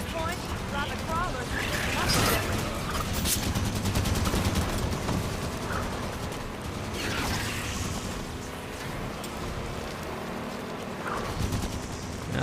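A rotary cannon fires in Halo 5: Guardians, sustained rapid fire pounding through a dense wash of battle effects and other game noise.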